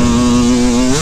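A dirt bike engine on a motocross track holds a steady, loud buzzing drone in third gear, close up, then its pitch dips slightly at the end as it bogs.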